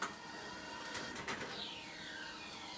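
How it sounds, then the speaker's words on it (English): Mimaki JV33 solvent printer printing retractable banner stand material roll to roll, its print head shuttling left to right with soft whirring sweeps and a few mechanical clicks, quiet and steady with no talk. "So this is our solvent printer. It's a Mamaki JV33."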